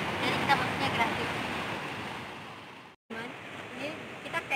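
Surf and wind at Pantai Karmila, a white-rock beach in Lampung, a steady broad roar of breaking waves with gusty wind buffeting the microphone, briefly cut to silence before resuming.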